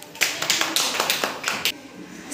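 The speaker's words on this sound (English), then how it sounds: "Clap for Shoreya." Schoolchildren clap together in a classroom for a classmate, giving a fairly close burst of quick, uneven hand claps that lasts nearly two seconds and then stops.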